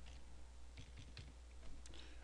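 Computer keyboard keys tapped in a short, light run of clicks while entering a port number into network software, quiet and close against a steady background hum.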